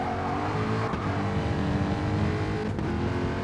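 Race car tyres squeal on medium compounds through the Parabolica in a Dragon Trail Gardens racing game round, with a steady loud engine drone under continuous tyre scrub, no talking.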